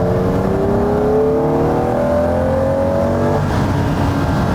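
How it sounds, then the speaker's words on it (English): Ferrari 365 GTB/4 Daytona V12 engine revving with rising, then settling pitch, loud and close, steady throughout without talk. "Because you're opening 12 butterflies with a slight touch of the accelerator, it just has that lovely throttle response"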